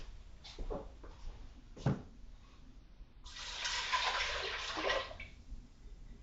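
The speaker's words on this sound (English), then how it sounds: "I'll be adding about 1 quart of water" Water from a tap pours into a soup pot for chicken soup, a quiet, steady splashing rush lasting a couple of seconds after a few faint clinks and knocks.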